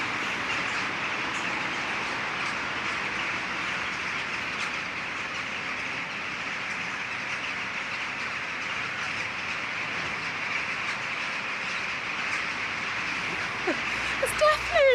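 A deafening, unbroken chorus of many crows calling at once fills the air in France, dense and steady throughout.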